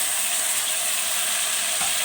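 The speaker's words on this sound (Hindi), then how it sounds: "और लहसुन अदरक को हम हल्का हल्का सौते कर लेंगे।" Garlic and ginger sautéing in a pan after onions have been browned golden, a steady continuous sizzle and fry heard close and alone without talk.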